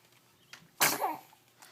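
A single sharp sneeze, close and fairly loud, rising from a quiet room with faint background sounds before and after.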